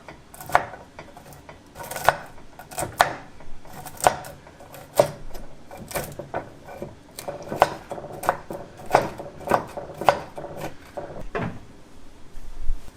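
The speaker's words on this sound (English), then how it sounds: "we're just gonna give this a rough chop" Knife roughly chopping an ingredient on a cutting board while cooking a Thanksgiving dinner: a close, steady run of sharp, irregular thuds and clacks with no talking.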